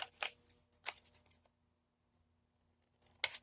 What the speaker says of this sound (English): go in and cut this corner so that it just touches the corner